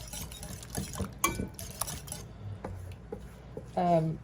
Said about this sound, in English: whisking this as I'm adding some of this to this till I get a manageable amount